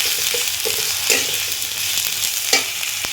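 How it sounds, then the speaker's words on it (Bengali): Cumin, coriander and garam masala fry and get stirred in a hot pan for dal, a steady close sizzle broken by scraping strokes of the spoon, with no talking. "তারপর দিয়ে দিচ্ছি 7 চামচ থেকে একটু কম গরম মশলা দিয়ে এটাকে আমি ভালো করে নাড়াচাড়া করে রান্না করে নেব"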